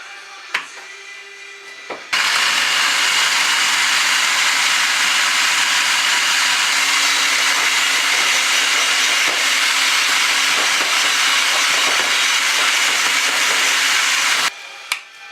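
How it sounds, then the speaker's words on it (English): A food processor purees ingredients for lamb meatballs into a paste, a loud steady broadband whirring roar that starts abruptly, runs without a break for about twelve seconds, then cuts off, with faint handling clicks before and after. "puree until you have a nice paste"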